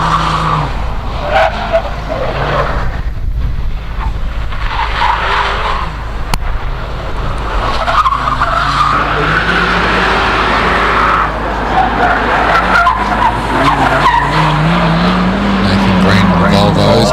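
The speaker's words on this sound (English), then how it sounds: "as we see Nathan Green in the Volvo wagon making his way around the hairpin now." A Volvo wagon race car skids round a hillclimb hairpin, tyres squealing steadily over a loud engine, with a commentator talking over it throughout.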